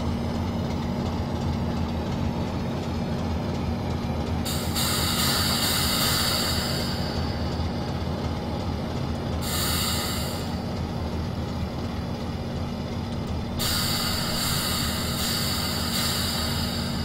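British Rail Class 158 diesel multiple unit running in Train Simulator 2016 on the Liverpool–Manchester line, a steady engine drone with constant rolling rail noise and intermittent hissing bursts.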